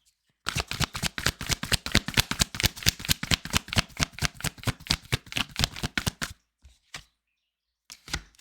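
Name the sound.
tarot cards being shuffled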